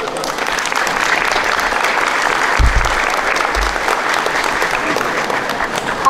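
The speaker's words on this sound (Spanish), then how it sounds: "Aplausos para el padrino de Alonso" Audience applause at the close of a graduation speech at a school end-of-year ceremony, a steady dense clapping from a crowd that continues throughout without pause.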